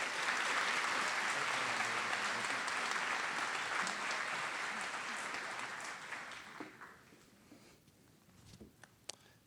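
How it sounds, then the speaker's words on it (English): Audience applause at a nursing school convocation, a dense sustained wash of clapping that gradually thins and fades out over about nine seconds, leaving a few scattered claps and light noise at the end. "Let's give another applause."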